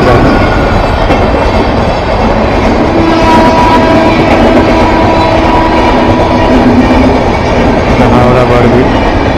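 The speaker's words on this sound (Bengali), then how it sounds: "আর ট্রেন যাচ্ছে।" The Howrah Barbil Express passes a rail gate near Ghatshila in a loud, continuous rumble of wheels and carriages, with rattling and faint squeals, close by and steady throughout.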